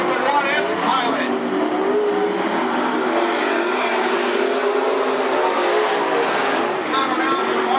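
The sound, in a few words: late model race cars on speedway track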